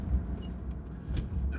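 Interior road noise from a car being driven, a low muffled rumble with soft swells and faint rattles, steady and close, without talking.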